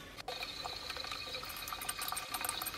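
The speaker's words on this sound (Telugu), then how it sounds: "షింకులు కూడా కడిగేసుకుంటున్నాను." Water running into a sink while it is washed, a steady splashing flow with faint clatters mixed in, close and fairly quiet throughout.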